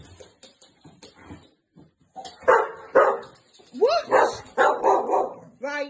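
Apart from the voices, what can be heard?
Staffordshire Bull Terrier puppy barking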